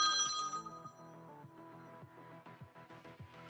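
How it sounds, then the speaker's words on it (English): A telephone rings, maybe a novelty bat phone, during a live comic book auction. A bright, tonal ring opens the moment and fades within the first second, followed by softer tonal clatter and thumps. "The bat phone is ringing."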